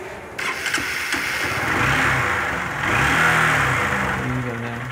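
A fuel-injected Honda Fan 150 motorcycle with a fault that makes it stall at idle and when accelerating catches and starts, then runs with a close, loud engine note that rises and falls through two revs.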